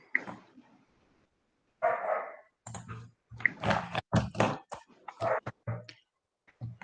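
A dog barking in the background indoors, sharp yips and barks in irregular bursts, some close together, with quiet gaps between them.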